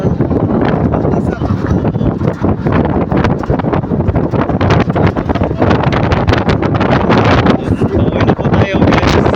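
Gusty wind pounds straight into the microphone outdoors, a loud, continuous rumbling buffet with rapid fluttering bursts throughout and no clear speech over it.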